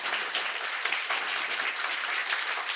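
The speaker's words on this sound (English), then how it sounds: "And would you just, give a round of applause for Scott for being here?" A gathered audience claps in a full, continuous round of applause, a dense and sustained patter with no voices over it.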